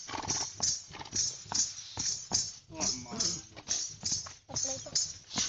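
A dancing horse steps and moves with rhythmic, repeated hoof clops and shuffles, close and moderately loud, while people talk over it.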